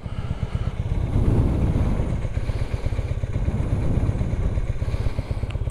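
An old Honda CB450 Custom motorcycle engine idles steadily and close by with a rapid low-pitched pulsing throb and a light mechanical clatter, swelling slightly early on and then holding even, with no voices.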